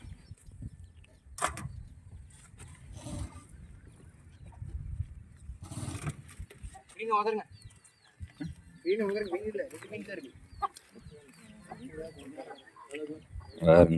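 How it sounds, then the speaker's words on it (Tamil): Chickens cluck in short bursts near the end, amid scattered thumps, rustling and a brief voice at a busy outdoor fish market by a village pond. "கோழி"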